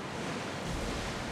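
Ship sailing through rough ocean waves in Assassin's Creed Odyssey, a steady broadband wash of surf and wind rushing continuously with no voices.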